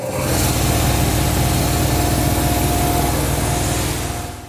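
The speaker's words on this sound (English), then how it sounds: "Let me turn my air compressor on." An air compressor runs loud and steady with a fast, even pulsing hum that holds for several seconds, then eases slightly toward the end.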